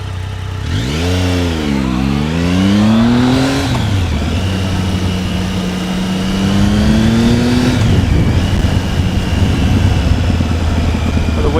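A Triumph Speed Triple motorcycle ridden through Tokyo streets, its engine loud and close, rising and falling in pitch through revs and gear changes over steady wind noise.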